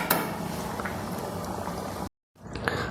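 Prawn curry with mango, jackfruit seeds and drumsticks bubbles steadily in a pot. The simmering is close and continuous, then cuts out briefly before a softer tail resumes.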